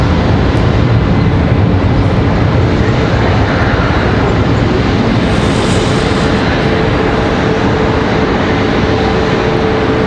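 A PSA Airlines CRJ900 regional jet departs Charlotte Douglas International, its engine roar a loud, steady broadband rumble that holds for the whole stretch without letting up.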